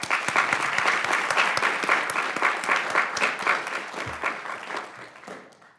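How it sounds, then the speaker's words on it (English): An audience at a school board meeting claps in a full, sustained round of applause that holds steady and then gradually tapers off near the end. "Luna a round of applause."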